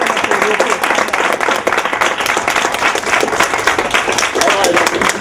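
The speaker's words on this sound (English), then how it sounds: "I want you to give him a rousing applause." Students burst into rousing applause, dense clapping filling the room for several seconds with scattered cheers and voices mixed into the crowd noise.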